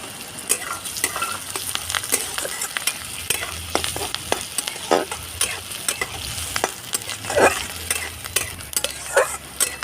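Chopped chillies and onions with a little turmeric frying in a pan, a steady sizzle broken by repeated scraping stirs and clinks of the spatula, close and fairly loud.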